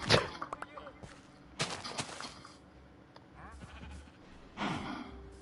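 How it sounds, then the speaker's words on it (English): Sheep in the Minecraft video game bleat in a few short bursts at different moments, with other game sounds between them and someone talking over the top. "I want to get the sheep right there"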